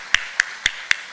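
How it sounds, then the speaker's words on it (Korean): A church congregation claps in worship, heard here as five evenly spaced, crisp claps at a steady rhythm, each short and distinct over a faint background. "하나님께 박수로 영광 돌리겠습니다."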